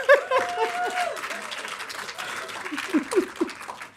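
Audience applause at a green games summit and awards livestream, moderately loud clapping under a speaking voice and some chuckles.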